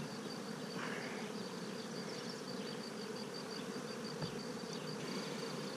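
Italian honeybees in an open hive during an inspection, with drones among them: a dense, even buzz of many bees held steadily close by, with no voices over it.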